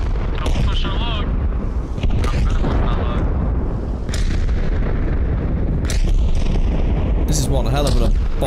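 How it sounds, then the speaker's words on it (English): Heavy artillery bombardment in the military game Arma Reforger, a loud, continuous barrage of booming blasts and crackling gunfire with dense rumbling low end throughout, while voices talk over the chaos. "This is one hell of a bombardment"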